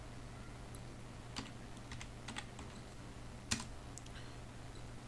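Sparse keystrokes on a computer keyboard as a Windows command is entered, scattered single clicks and a couple of sharper taps against a steady low hum, with no one talking.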